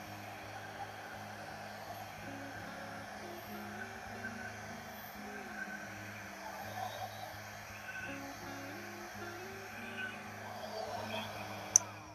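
A hair dryer blows air across wet acrylic paint during a butterfly-themed pour painting, a steady low whir held at an even level throughout with slight wavering, ending in a brief click.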